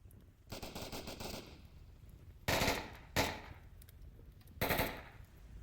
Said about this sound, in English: A little bit of shooting all over the place.